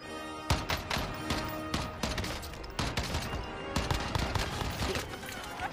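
Dense, rapid gunfire in a first-person shooter game, a steady stream of sharp reports with bursts of louder shots throughout, close and loud, with a voice speaking over it.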